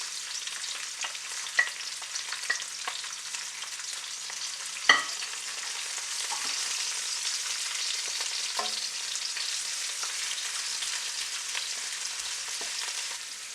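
Fresh garlic, pickled ginger and pickled pepper fry in oil over medium heat, giving a steady, even sizzle throughout with a few sharp clinks of a utensil against the pan.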